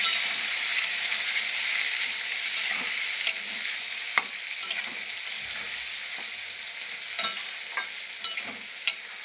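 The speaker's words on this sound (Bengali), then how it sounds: "আবার একটু কষিয়ে নেবো" Spice paste for a paneer curry sautéing in a pan, with a steady loud sizzle and scattered clicks and scrapes of a stirring spoon, close up with no voices.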